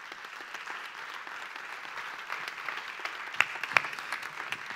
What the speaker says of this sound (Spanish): un fuerte aplauso para Alex Calabuch